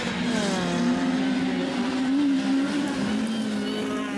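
A rallycross car accelerates hard onto tarmac at Lydden Hill, its engine holding a loud, steady, rising drone with a slight wavering pitch, close and continuous throughout.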